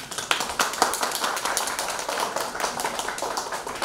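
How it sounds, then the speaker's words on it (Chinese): An audience at a Kaohsiung charity event for schoolchildren claps in thanks, a steady patter of many hands that holds evenly from start to finish with no voices over it. "我们再次的掌声感谢。"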